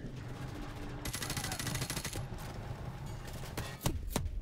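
Enemy gunfire in Call of Duty: Modern Warfare, a dense rapid automatic burst followed by a few single sharp shots, loud and close over a rumbling game background.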